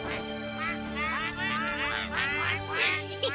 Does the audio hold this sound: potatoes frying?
no